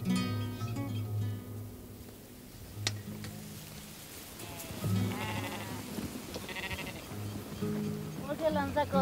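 A flock of sheep on a farm bleats repeatedly, several wavering calls near and far, under a narrator's speech and soft background music.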